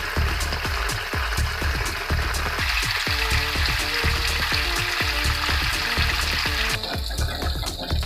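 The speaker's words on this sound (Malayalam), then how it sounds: "കഴുകി വാരിയെടുത്ത എണ്ണ നമുക്ക് വെണ്ണ ചട്ടിയിലിട്ട് നന്നായിട്ട് ഉരുക്കിയെടുക്കണം" Butter melts down into ghee in a pan, giving a loud, dense bubbling sizzle with rapid rhythmic crackles that carry on steadily throughout.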